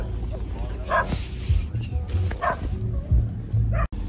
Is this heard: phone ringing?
no